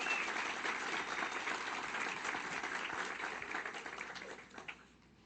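A church congregation claps steadily and densely for several seconds, the sustained applause thinning out and fading near the end.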